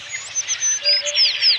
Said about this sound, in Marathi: पोपट येतात, दाणे टिपून जातात।